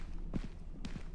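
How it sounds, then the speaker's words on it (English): Footsteps in a quiet video game map, two pairs of soft thuds with a hollow, echoing quality, close by and with no talking. "you hear that? Footsteps."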